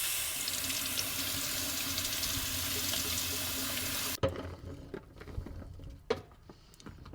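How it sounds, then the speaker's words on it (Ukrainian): Tap water runs steadily into a sink while blueberries are washed, a continuous splashing hiss that cuts off sharply partway through, leaving quiet clinks and handling noises of the berries and bowl. "Зараз будемо брати чорничку мити."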